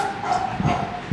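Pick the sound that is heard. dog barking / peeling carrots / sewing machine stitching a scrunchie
dog barking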